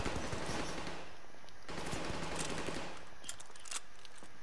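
Dense, rapid automatic gunfire crackles without letup at a contested hardpoint in a Call of Duty multiplayer match, loud and close with overlapping bursts and no spoken words.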